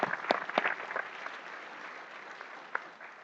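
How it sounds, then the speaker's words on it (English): Applause from an audience at an evening panel discussion, opening with a few louder bursts of clapping and then settling into a steady, moderately faint patter that tapers off over a few seconds. "Give yourselves a round of applause for your tremendous hard work and advocacy."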